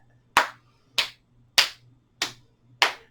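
Five sharp, evenly spaced slaps of a hand tapping into the elbow pit during a chair yoga exercise, each crisp and close, with quiet between them.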